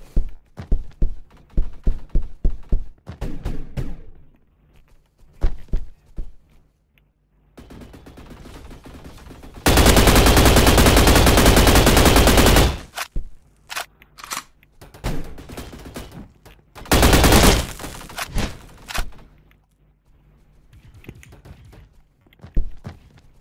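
Gunfire in the video game Energy Assault: loud sustained bursts of automatic fire, one long volley and a shorter later burst, between scattered single shots and footstep-like thumps, with no talk.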